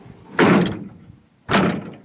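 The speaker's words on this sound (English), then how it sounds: "factory doors and factory strikers still function" Two solid thunks from a rat rod's original factory car door being shut, each ending in a short latch click against the striker, about a second apart, close and loud in a quiet space.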